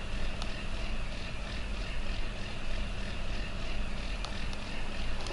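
A farm tractor engine in Farming Simulator 19 runs loudly and steadily, a constant droning rumble that holds level throughout with no pauses.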